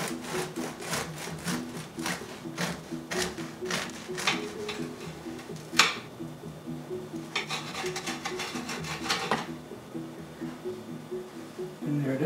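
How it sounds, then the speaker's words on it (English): A knife saws through a loaf of pumpernickel bread with rapid, rhythmic scraping strokes in two bursts. A single sharper knock falls between the bursts. The cutting is close and moderately loud, with no voices. "I'm going to cut a few slices."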